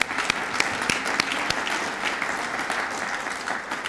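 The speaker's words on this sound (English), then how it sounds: "Let's have a round of applause for all of you" Audience applause at an education legislative action day event, a steady wash of many hands clapping throughout, with a few sharper individual claps standing out.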